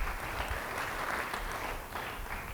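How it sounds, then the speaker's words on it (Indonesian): A church congregation breaks into applause, a steady wash of clapping that holds for the whole stretch, fairly loud and without speech over it. "Yang mau beri tepuk tangan bagi dia."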